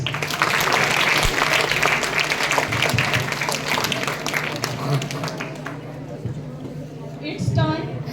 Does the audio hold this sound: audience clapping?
yes